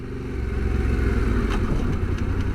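A motorcycle engine held in first gear drones at steady revs, loud and close with a rumbling low tone and light wind noise, no voices.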